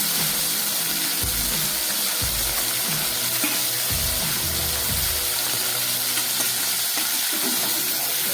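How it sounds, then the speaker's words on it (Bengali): Tangra fish frying in oil: a loud, dense, constant sizzle and crackle close up, with a few low thumps underneath and no voices. "সমস্ত মাছগুলোকে আমি একবারেই ভেজে নেব।"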